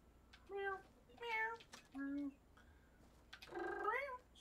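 A cat meows several times at close range, a handful of short, distinct calls with a longer, rising meow at the end, over a quiet room.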